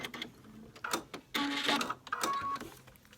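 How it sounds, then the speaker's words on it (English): A sewing machine stitching a strap for a zipper pouch, with short irregular bursts of rapid mechanical whirring and clatter separated by brief pauses, close and fairly quiet. "So what we're doing now is just sewing a strap."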